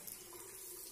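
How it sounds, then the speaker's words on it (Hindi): Water runs steadily from a tap at a gym in a residential park, a continuous close, even splashing flow with no pauses and no voices. "पानी आ गया यार,"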